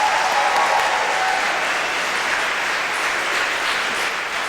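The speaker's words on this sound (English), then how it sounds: "Can we give a big round of applause and thank you for making this happen for them?" Steady, dense clapping from a crowd of listeners at a gathering carries through without pause, slowly easing in loudness near the end.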